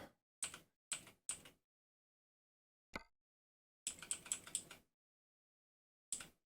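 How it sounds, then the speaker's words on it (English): Computer keyboard clicked during a truck-simulator game session, heard as short, sharp key clicks arriving singly and in small bursts, separated by silent gaps, close and fairly quiet. "I will be getting a different keyboard here so you guys don't hear all this clicking"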